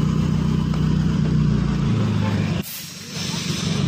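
Bus terminal ambience with a steady low engine rumble from idling buses, then a sharp hiss of air brakes releasing before the engines settle back, with voices talking over it.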